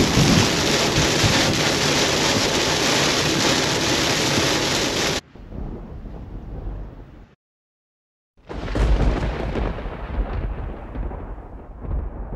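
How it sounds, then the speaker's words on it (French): Heavy tropical thunderstorm in Florida: a dense, loud roar of pouring rain for several seconds, then a quieter patch and a brief drop to near silence before the downpour surges back strongly. No speech is heard. "climat tropical, celui qui cause des orages apocalyptiques, des ouragans, des tornades"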